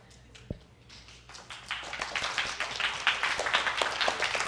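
An audience claps in a church service: a single sharp clap comes first, then clapping builds into a steady, moderately distant round of applause.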